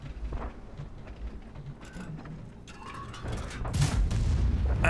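A tank gun firing and penetrating its target in World of Tanks, a series of low booms and mechanical clatter building to a louder blast near the end, with no talk.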